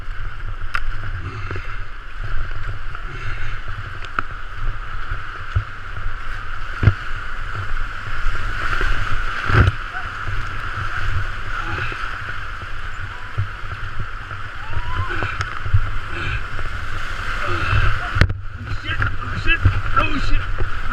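Kayak paddling on the Hantan River: steady water splashing and rushing with wind noise throughout, a few sharp paddle knocks standing out, while people shout and talk intermittently.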